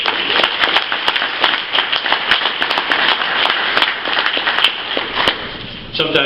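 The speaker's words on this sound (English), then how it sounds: "Let's give him another round of applause." An audience applauds a speaker at a presentation, giving dense, sustained clapping from many hands that fades slightly at the very end.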